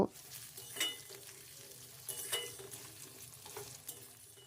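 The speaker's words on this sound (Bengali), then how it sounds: "এবার এই আলুটাকে আমি একটু কষিয়ে নেব" Chopped potatoes being sautéed in a pan for a spinach dish, giving a soft, steady frying crackle with a few louder stirring scrapes and clinks scattered throughout, fairly quiet and with no talking.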